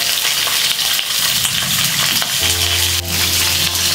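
Chopped green chillies frying in hot oil for Hyderabadi mirchi ka salan, a loud, steady, dense sizzle close up that continues throughout, without voices.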